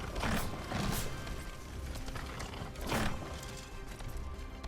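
Hooves of a robotic horse ridden by a robot man in Steelrising, heavy mechanical thuds landing every second or two over a constant wash of game ambience.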